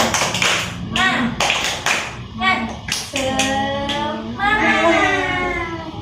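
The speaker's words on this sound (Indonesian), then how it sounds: "kita tepuk sama-sama ya" A primary school class claps together in short rhythmic bursts on cue, with sharp hand claps alternating with children's voices chanting and calling out in a classroom.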